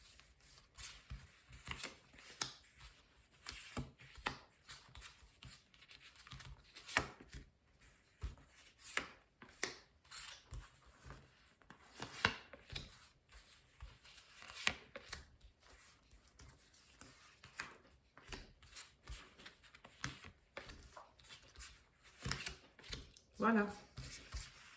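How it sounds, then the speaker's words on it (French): Tarot cards being shuffled for a nine-card spread, soft repeated riffling and tapping close by, under someone talking. "on va faire un tirage en 9 cartes"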